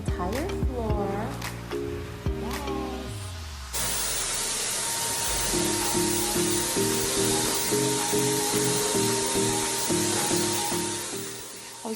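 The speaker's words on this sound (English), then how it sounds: "I was so excited to finally learn how to use this spray gun, and I learned the different techniques on how to spray paint." Spray gun painting wainscoting panels indoors, a steady broad hiss running continuously for most of the clip after a short stretch of talk and handling sounds, with a voice and faint background music over it.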